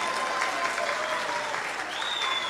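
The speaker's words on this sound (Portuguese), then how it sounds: "Palmas para os professores que aqui estão." An audience at a lecture gives warm applause for the course teachers: continuous, even clapping from a crowd in a hall, moderately loud, with a faint high tone running through it.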